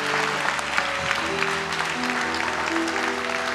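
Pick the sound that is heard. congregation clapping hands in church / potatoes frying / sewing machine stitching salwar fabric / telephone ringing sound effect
congregation clapping hands in church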